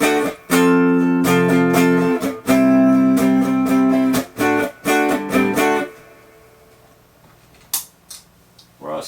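Electric guitar in a clean tone through a RAW Squid pedal prototype, plucked notes and short chord strums in an uneven rhythm, ringing out then fading to near silence with a few faint clicks, close and clear.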